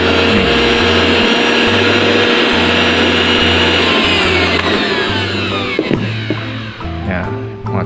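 A Promix blender that keeps cutting out on its own is switched on and runs with a loud, steady motor whine and low hum that drops and sputters briefly near the end, with people talking over it.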